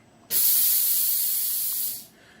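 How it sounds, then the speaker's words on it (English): Compressed assist gas hisses steadily through the solenoid of a laser cutting machine during a purge, starting abruptly, holding for about two seconds and cutting off cleanly, close and alone. "this blow button right there, that'll enable the solenoid or activate the solenoid, or at least on this machine it will, and verify that your gas is on and flowing"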